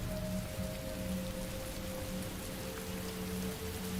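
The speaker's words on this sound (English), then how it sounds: "it sounds like it's starting to rain" Steady rain falls around an outdoor camping spot, a continuous wash of drops on surfaces at moderate level with a faint low hum running through, no voices.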